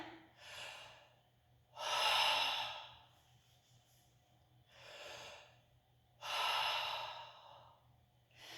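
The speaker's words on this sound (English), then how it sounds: "So deep breath in." Slow, deep belly breathing in a piston-breathing exercise, with broad airy inhales and exhales alternating at a steady rhythm, close and fairly loud, with no talking over it.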